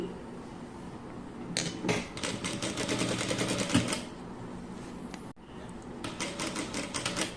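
A sewing machine runs in two bursts of rapid, even mechanical stitching, close and steady, with a brief stop in between.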